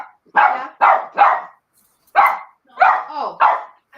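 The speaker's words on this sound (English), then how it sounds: "Why are you barking?" A dog barks six times in two quick bursts, sharp and loud and close by, with short silences between the barks.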